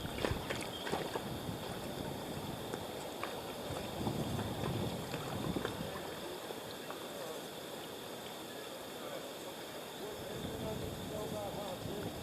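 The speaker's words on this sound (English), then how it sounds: "The headwind is actually pretty strong." Strong headwind buffets the microphone while tubing on a whitewater river near Harpers Ferry, West Virginia, a steady broadband roar of wind and rushing water that runs throughout with no clear talk.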